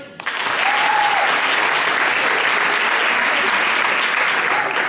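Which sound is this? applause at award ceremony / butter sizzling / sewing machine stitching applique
applause at award ceremony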